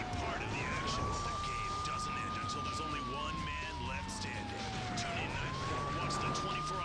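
A police siren wails in a steady rising and falling tone over continuous engine and traffic noise, with faint talk underneath, in the video game GTA III.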